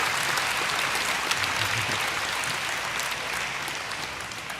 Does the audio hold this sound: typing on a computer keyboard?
no